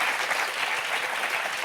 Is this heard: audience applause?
yes